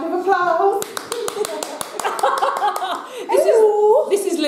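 Small indoor round of applause from a couple of people, a few sharp separate claps mixed with laughter and chatter, close and informal, with voices talking over it.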